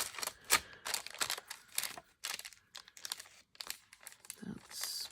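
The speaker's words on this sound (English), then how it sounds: "Let me just quickly sort of roughly tear this so I don't have to do all that trimming after the fact." Paper or similar art-journal material torn roughly by hand, a series of short crisp rips and crinkles in uneven bursts, close and fairly quiet.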